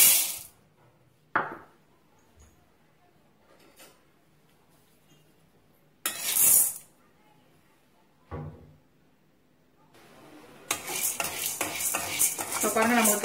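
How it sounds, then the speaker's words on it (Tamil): Chana dal dry roasting in a pan on a low flame, with a few sharp scrapes and rattles of stirring, quiet gaps between them, then a denser rattling burst near the end. "அதை இப்போ நம்ம வறுத்துக்கலாம் அடுப்பப்ப சிம்ல வச்சுக்கலாம் ஃபர்ஸ்ட்ல நூறு கடலை பருப்பு"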